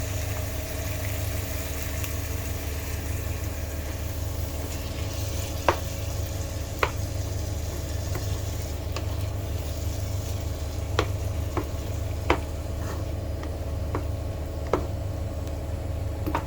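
Tomatoes cooking in a pan for an Indian beans poriyal, a steady close sizzling and frying hiss lasting throughout, broken by occasional small pops and utensil clicks, with no voices.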